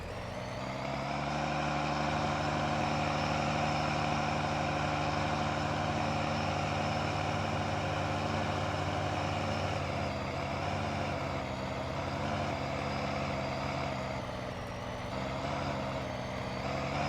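A farm truck in Farming Simulator 19 idles steadily on a harvest map, a continuous even engine drone at moderate, unchanging loudness with no talk over it.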